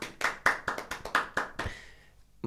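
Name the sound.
audience applause for a stand-up comedian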